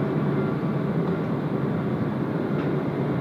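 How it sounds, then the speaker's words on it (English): Japan Airlines flight 456 from Tokushima touches down on runway 22 at Tokyo Haneda, a steady loud roar of jet engines and rushing air filling the scene without a break. "we might even just catch our next arrival here in runway 22 in that of the Japan 456"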